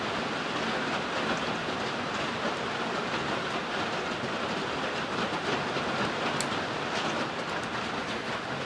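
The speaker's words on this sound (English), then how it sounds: "so you're going to hear a lot of rain." Heavy rain from a storm with strong wind, a steady dense wash of noise that holds constant and loud throughout, with no voices.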